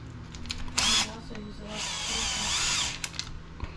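Power driver set with a clutch, driving screws during an RC car build: two short high-pitched whirring bursts, the second longer, with small clicks between them, close by and fairly quiet.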